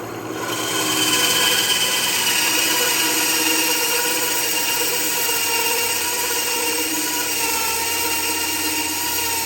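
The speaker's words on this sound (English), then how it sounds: "I've got my block of walnut cut." A power saw cuts a block of walnut for a gunstock repair on an Ithaca Model 66 .410 shotgun, a loud steady whine with a sustained motor drone held for about nine seconds, no speech.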